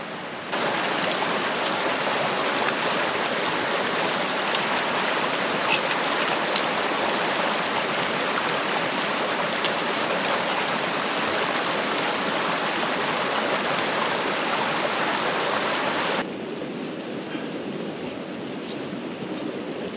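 A river in the Scottish Highlands rushes past in a constant, loud, broadband roar close to the microphone, with possible wind buffeting mixed in and no voices.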